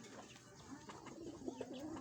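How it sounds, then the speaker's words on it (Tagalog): Pigeons coo softly in a low, repeated throaty rhythm, faint and nearby, with a few light rustles and chirps mixed in. "Yan po yung mga kalapati natin."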